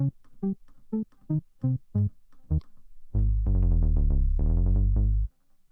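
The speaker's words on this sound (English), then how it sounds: "is triggering this synthesizer, which sounds like this." A synthesizer plays a pattern of short, evenly spaced plucked notes, then shifts into a loud, sustained, held tone before stopping.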